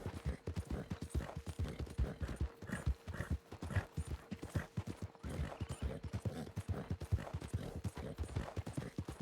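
Horse hooves clip-clop in a steady, fairly quick walking rhythm inside a Wild West roleplay video game, close and continuous throughout, with faint background sound and little speech.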